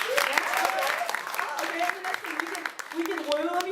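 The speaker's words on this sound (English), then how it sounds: "Let's hear some clapping." An audience at a poetry slam claps, scattered sharp hand claps over lively crowd murmur and voices, close and fairly uneven in rhythm.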